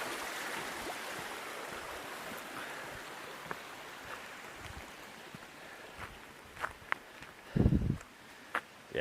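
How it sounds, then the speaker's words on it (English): Running water from a stream beside a campsite makes a steady broadband rush. Near the end, a few close footsteps or crunching sounds break through it. "It's nice to camp next to the sound of running water."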